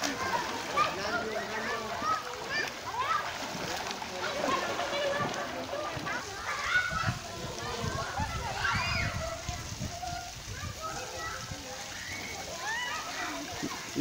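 Swimmers splash and slosh in cold water on a Negros Occidental vacation, with steady close watery churning and splatter throughout while people talk and call out over it.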